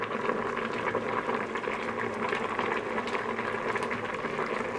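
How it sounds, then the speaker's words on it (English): Ukwa (breadfruit) boiling in a pot, a steady dense bubbling and hiss that holds at an even level throughout with no talk over it. "Let's go check my food. You can see it's boiling."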